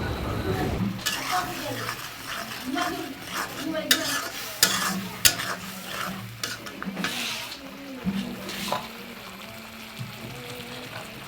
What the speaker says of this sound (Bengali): দিয়ে ভালোভাবে নেড়ে চেড়ে নিতে হবে।